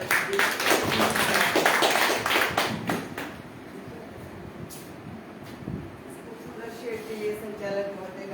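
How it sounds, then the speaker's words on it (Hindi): Audience applause welcoming a speaker onto a stage, a dense burst of many hands clapping that fades after about three seconds into quieter room noise with a few scattered claps. "जोरदार तालियों से स्वागत कीजिए।"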